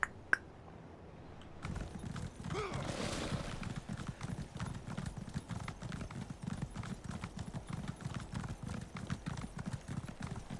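A horse trots in The Elder Scrolls Online, hooves clip-clopping in a quick, even rhythm that runs continuously after a brief quiet start.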